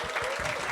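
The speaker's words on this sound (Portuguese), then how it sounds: "Vamos aplaudi-lo?" Brief burst of audience applause welcoming Fernando, the CEO, at a Grupo Atem corporate event for Outubro Rosa and Novembro Azul: a short, dense patter of clapping hands.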